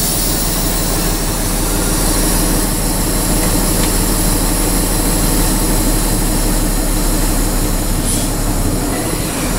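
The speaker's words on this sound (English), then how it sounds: "And I'm going to test my parking brake." Steady, loud, close mechanical roar from a tractor trailer truck engine during a parking brake test, a continuous droning noise with no speech.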